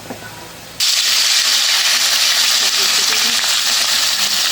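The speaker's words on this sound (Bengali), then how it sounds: "এই যে মাছ ভাজা হয়ে গেল" Fish frying in oil over a home stove: after a brief quiet moment, a loud, steady sizzling hiss bursts in close by and keeps going without a break.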